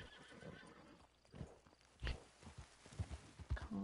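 A video game horse whinnies and snorts amid clip-clop hooves and shuffling steps, with sharp bursts near the end over a steady low background.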